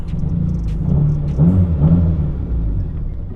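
A car engine rumbles steadily nearby, with a low droning tone that swells slightly midway before settling back.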